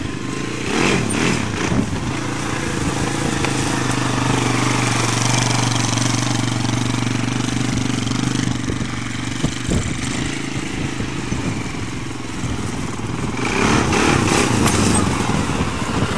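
A small engine of a Can-Am 800 quad ATV runs continuously nearby, droning and revving unevenly with occasional rises in throttle.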